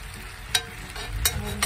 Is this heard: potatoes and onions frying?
yes